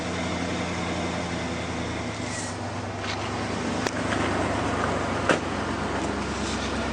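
An old truck of almost 30 years, still on its original exhaust, idles from a cold start in a steady, smooth low rumble, close and continuous, with a couple of brief clicks along the way.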